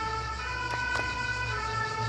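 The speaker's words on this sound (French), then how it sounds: "Alors on va laisser passer la sirène là" Siren of an emergency vehicle passing on a nearby road, holding a steady, continuous wail at moderate loudness for the whole stretch, with no voices over it.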